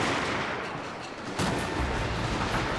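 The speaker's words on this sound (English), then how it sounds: "that's because so many troops are firing at the same time" Massed rifle volleys from kneeling troops in Fall of the Samurai, a dense, rolling crackle of overlapping shots that swells into a heavier thudding barrage partway through, loud and continuous without speech.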